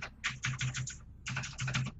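Rapid computer keyboard and mouse clicking during a Heroes of the Storm match, two quick bursts of several crisp, close clicks separated by a brief pause.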